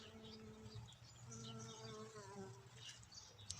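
A bee buzzes steadily close by among oxalis flowers at the edge of a meadow, its droning hum wavering in pitch as it moves, with faint outdoor ambience around it.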